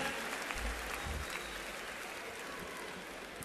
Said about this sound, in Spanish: Vamos a darle un aplauso para ellos